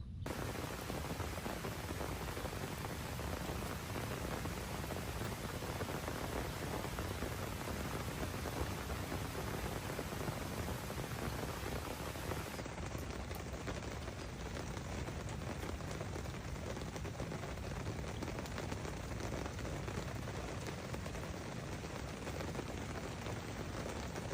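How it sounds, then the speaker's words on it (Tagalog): Drizzle grows heavier on a tent at a motocamping site on a farm, a dense, even hiss of rain on fabric that continues steadily with no talk. "Medyo lumalakas yung ambon."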